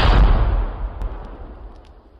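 A pirate cannon fires once in an audio drama, a loud, deep boom that rolls off into a fading rumble over about two seconds.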